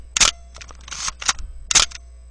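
Nikon FE2 camera with electronic shutter fired twice, each a crisp close snap with little ringing, with softer winding and handling clicks in between and no voices.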